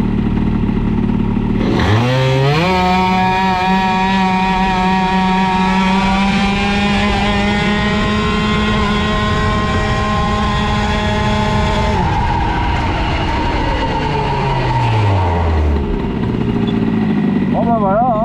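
A CPI scooter fitted with a boosted Airsal 70cc cylinder revs hard and close, its two-stroke whine climbing sharply, holding high for about ten seconds, then falling away as the throttle closes. A voice is heard briefly.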